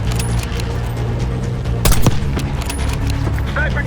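Dense gunfire from the video game Call of Duty Black Ops 6, a loud fusillade of shots with a heavier burst near the middle, under battle noise and voices.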